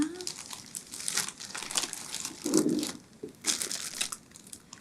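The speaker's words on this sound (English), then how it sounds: "So let me put a plastic bag over the cilantro." A thin plastic bag crinkles and rustles in bursts as it is pulled down over a bunch of fresh cilantro in a kitchen, close and moderately loud with short pauses between handlings.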